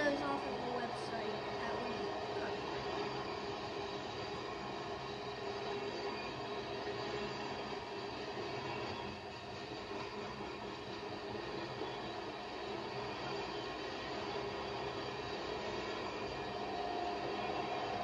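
A Canadian National tanker train rolls past at a distance, a steady rumble of railcars and wheels lasting throughout, with people talking quietly nearby.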